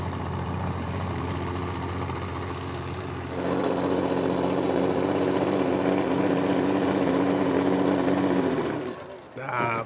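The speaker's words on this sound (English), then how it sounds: "The engine didn't sound perfect. Wasn't a perfect run from this tractor." Pulling tractor engine in a tractor pull competition, a loud steady low roar that rises and thickens partway through the run and then cuts back near the end, with crowd and announcer noise underneath.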